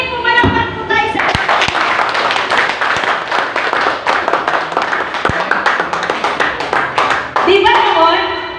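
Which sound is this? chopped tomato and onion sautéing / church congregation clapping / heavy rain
church congregation clapping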